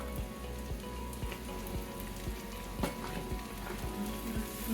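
Garlic sizzles in a hot pan with a steady, quiet crackle and small pops.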